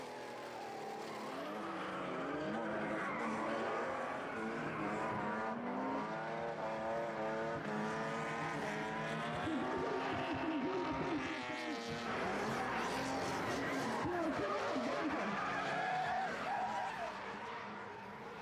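A modified diesel-engined Nissan drift car skids through a drift day event in Varna, its engine roaring continuously and loudly with wavering pitch and tire noise throughout, no talk heard.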